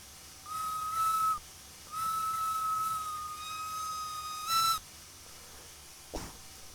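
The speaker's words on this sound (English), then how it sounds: "Does have a nice little variable whistle." The variable steam whistle of a Henschel & Sohn Fabia 0-4-0T tank locomotive in Train Simulator Classic, heard from the cab, sounds three clear blasts. The pitch holds steady and then bends on the longer middle and final notes.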